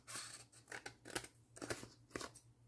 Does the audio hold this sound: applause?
no